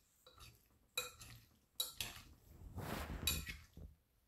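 Utensils clink and scrape in a bowl as a cucumber, apple and avocado salad with black pepper is tossed, a few separate close clatters followed by a longer mixing rustle, quiet overall.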